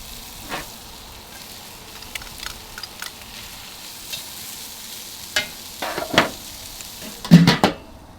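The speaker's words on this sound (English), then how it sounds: "We're also going to combine that with some onions, start to get those caramelized" Onions fry and begin to caramelize on a Weber grill under a low, soft sizzle, with scattered scrapes and stirs that cluster near the end, and no voices.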